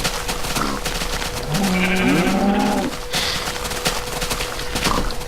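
A farm animal in the Minecraft video game, a cow among pigs, gives a drawn-out bleating, lowing call midway through a dense, steady backdrop of game noise.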